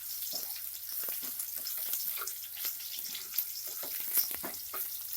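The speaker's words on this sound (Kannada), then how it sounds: "ನೋಡಿ, ಬೆಳ್ಳುಳ್ಳಿ ಫ್ರೈ ಆಗಿದೆ." Crushed garlic fries steadily in a pan, a continuous crackling sizzle with scattered pops and light stirring clatter, close and moderately loud with no talking.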